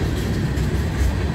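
A southbound freight manifest train rolling uphill in Abbeville gives a steady, loud low rumble of wheels and cars passing close by, continuous and without clear clacks or voices.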